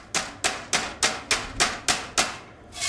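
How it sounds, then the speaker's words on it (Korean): A hammer strikes heat-treated forged iron in eight evenly spaced, sharp metallic blows with ringing tails, loud and close with no talk. "이 열 처리한 거는 이렇게 망치로 쳐도 약간의 변형이 가도 깨지질 않는데"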